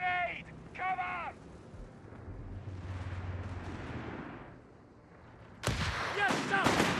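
Grenade blast and rumbling battle noise in the World War II strategy game Company of Heroes 3, a broad explosion swelling and fading between bursts of shouted soldier voices.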